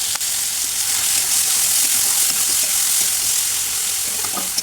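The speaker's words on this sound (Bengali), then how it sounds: "এর ভিতরে আমরা গ্রেট করা পেঁয়াজ কুচি দিয়ে দেবো।" Grated onion frying in hot oil with whole spices and two bay leaves, a steady, close sizzle hissing without a break, with a couple of faint clinks near the start and end.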